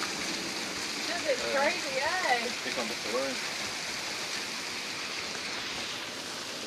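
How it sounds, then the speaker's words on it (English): Heavy hail and rain falling during a holiday storm, a dense continuous hiss and clatter filling the whole scene, with people talking briefly over it in the middle. "I've never seen hail like this before."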